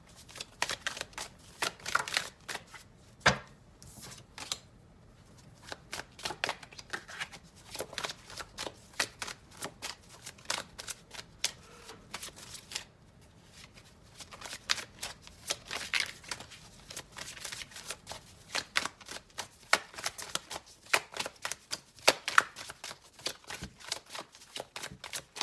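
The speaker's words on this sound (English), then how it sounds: "I'm gonna go ahead and pull 8 cards for you guys" Tarot cards being shuffled before a reading, a long run of quick papery riffles and soft snaps that come in uneven bursts, close and fairly quiet, with no talking.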